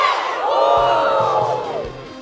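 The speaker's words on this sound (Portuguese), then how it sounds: "Isso aí é um grito que vocês dão antes de jogo, antes de treino" A women's American football team shouts a loud unison battle-cry chant, a crowd of voices roaring together up close and then tapering off.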